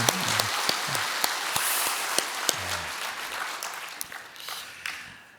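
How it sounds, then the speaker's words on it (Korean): Church congregation applause after a Christmas choir performance, dense and steady at first, then thinning out toward the end. "우리 박수 한번 부탁드립니다"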